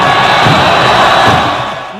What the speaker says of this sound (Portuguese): Que bonita a festa da torcida do Volta Redonda